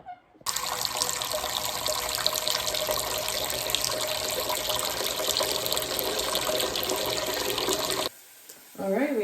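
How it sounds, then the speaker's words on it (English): Tap water runs steadily into a cooking pot with a bright, hissing rush, holding nearly constant for about eight seconds before cutting off abruptly. "And we're gonna go fill this up with some water."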